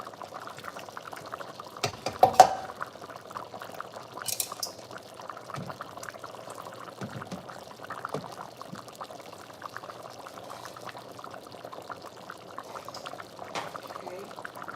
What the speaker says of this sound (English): Go on and put these in. Let them boil a little bit.